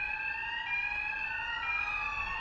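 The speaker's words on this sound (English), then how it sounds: "When the alarm sounds," A building fire alarm sounds continuously, a steady electronic tone held without a break, moderately loud and alone with no voices.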